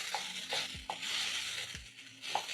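Butter is stirred into mushrooms cooking in a pan, giving a soft, close sizzle with a few light scrapes and clicks of the utensil spaced about a second apart.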